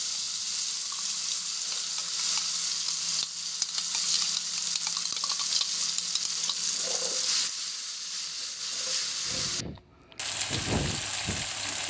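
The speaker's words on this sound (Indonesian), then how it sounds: "Lalu kita tumis sambalnya." Chili sambal made from blended bird's eye chilies and garlic sizzles and fries steadily in a pan, with scraping stirring noises and a short quiet gap near the end.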